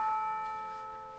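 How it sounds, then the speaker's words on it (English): A single church bell rings with a clear, sustained metallic tone that slowly fades, with no other sounds around it. "the sound that you'll probably hear if you hear one of those kind of bells is"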